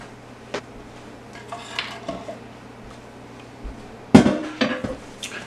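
Beef marinade being mixed in a bowl, with sparse clinks and scrapes of a utensil against the dish, faint at first and then a louder burst of clattering and stirring near the end.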